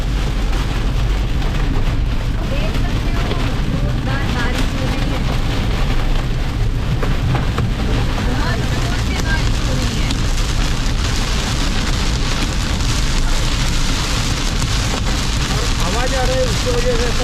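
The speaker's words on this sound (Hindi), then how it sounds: "उसकी वजह से ऐसा लग रहा है शायद ओले भी गिर रहे हैं।" Hail or heavy rain drums steadily and densely on a car during a drive on Hyderabad's Outer Ring Road, a continuous loud clatter with low road rumble underneath and no break.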